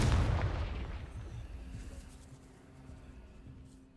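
Confringo fire-blast spell exploding in the video game Hogwarts Legacy, a loud boom at the start that rumbles and fades away over a few seconds.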